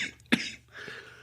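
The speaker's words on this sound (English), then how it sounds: "I'll cut that cough out" One short, sharp cough sounds close to the microphone, followed by quiet room noise.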